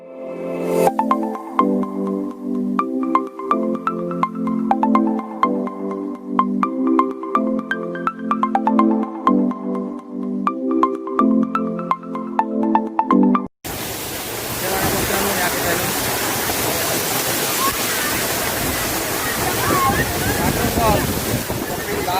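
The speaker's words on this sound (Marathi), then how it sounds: "खूप मोठा या ठिकाणी धबधबा आहे. उंचावरून पाणी या ठिकाणी पडत आहे." Roar of the Kapildhara waterfall, water dropping from a height, heard as a steady, dense broadband rush that comes in abruptly after a stretch of music and continues evenly to the end.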